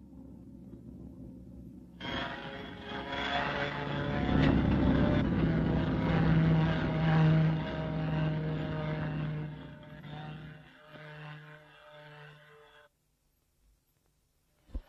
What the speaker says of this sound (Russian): сейчас в Москву как раз пойдет санитарный У-2